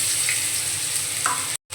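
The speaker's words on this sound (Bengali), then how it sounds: "রসুনটাকে এখন ভালো করে ভেজে নেব" Garlic paste frying in hot oil in a wok, a loud, close, steady crackling sizzle that cuts off abruptly at the end.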